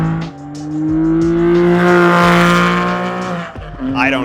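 A Porsche with Fabspeed headers, decat pipes and mufflers tuned louder gives a loud, close exhaust drone that climbs steadily in pitch, drops off after a gear change, then picks up again. Tire noise and a voice sit underneath.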